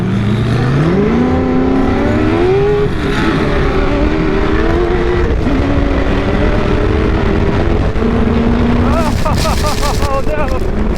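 A 1700-horsepower sandrail races across the dunes at Glamis, its engine roaring loud and close with rising revs, shifts and sustained high-speed drone, wind buffeting throughout.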